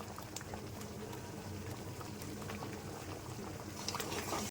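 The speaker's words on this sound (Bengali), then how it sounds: "এবার দিয়ে দিচ্ছি জল, আর একটু বাটার দিয়ে দিচ্ছি, দিয়ে দিচ্ছি ফ্রেশ ক্রিম" Butter paneer masala sizzles and bubbles softly in a pan as water, butter and fresh cream go in, a faint, steady simmer with scattered small pops.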